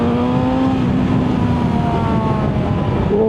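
A 2025 BMW M 1000 XR motorcycle on the overrun, its engine droning steadily as revs fall, with a tonal whine and wind rush from close by.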